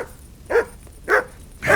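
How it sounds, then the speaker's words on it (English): Dog barking in Kingdom Come Deliverance II, three short, loud barks spaced about half a second apart, close by and clear against a quiet background. "Good dog, Mutt."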